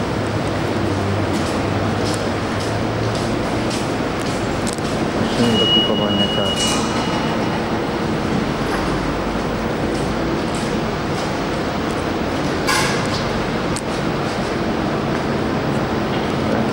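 Inside a New York subway station, a train rumbles steadily with a continuous loud roar, brief metallic squeals and clanks, while people talk faintly in the background.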